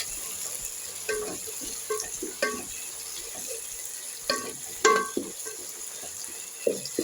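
Ginger garlic paste frying and being stirred in a pan, giving a steady faint sizzle broken by scattered scrapes and light utensil clinks against the pan, with no talking.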